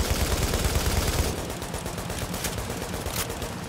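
Rapid, loud LMG fire in the video game The Division, a dense chatter of shots that is heaviest at the start and continues unbroken, with no voices.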